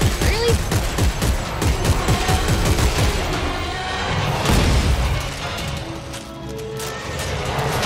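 Rapid bursts of gunfire from Dead Space 3 weapons training, dense repeated shots for the first few seconds, then heavier blasts and a rumbling tail as firing thins out, with game effects behind.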